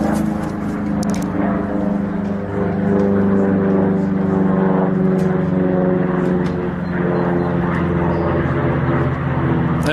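A P-51 Mustang's V-12 Merlin piston engine drones steadily and loudly at a museum, a continuous propeller hum with a few faint clicks and sounds from people nearby.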